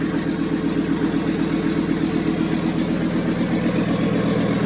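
A Toyota 1PZ diesel engine fitted in a CJ7 idles with a suspected low fuel issue, giving a continuous close, loud, even rumble with a fine regular ticking pulse and no voices.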